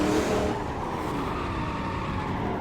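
1930s Silver Arrows race car engine in Assetto Corsa droning loud and steady at high revs, a rough, continuous roar with no pauses.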